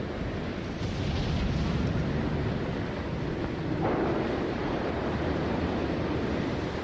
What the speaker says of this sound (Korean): 집채만큼 높은 파도가 뱃머리를 때리는 소리가 들려요.